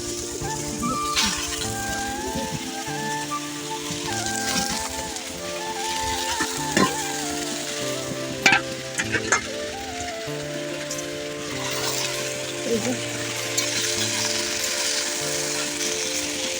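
Leafy greens fry in a pan over a fiercely burning stove, a dense crackling sizzle that keeps on throughout, with occasional utensil knocks and stirring clatter close by and no voices.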